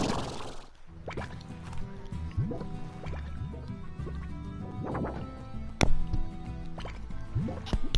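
Water is gathered in the video game Slime Rancher: a steady liquid gurgle and sloshing with scattered drips and bright pops over a continuous watery bed.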